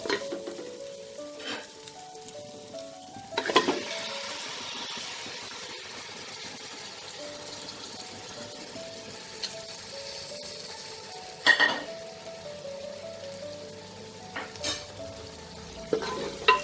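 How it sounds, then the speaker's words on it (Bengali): Mutton sizzles steadily as it fries with spices in a pot, a loud continuous hiss broken by a few sharp scrapes and clinks of the stirring spoon against the metal. "মাটনটা দিয়ে খুব ভালো করে মশলার সাথে আমি মিশিয়ে নেব।"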